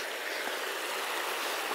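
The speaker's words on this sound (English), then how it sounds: "I hear the water running." Shallow river water running over rocks at a state park falls area, a steady broadband rush that stays near and constant throughout with no voices.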